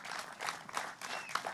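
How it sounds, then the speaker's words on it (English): An audience applauding at a mural ribbon cutting ceremony, a brief patter of many hands clapping at moderate distance, fairly soft. "I want to give a big round of applause"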